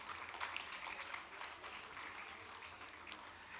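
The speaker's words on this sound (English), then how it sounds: "give them a round of applause, please." An audience applauds at a university School of Commerce convocation ceremony, a steady, fairly soft wash of clapping with no talk over it.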